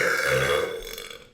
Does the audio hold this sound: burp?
yes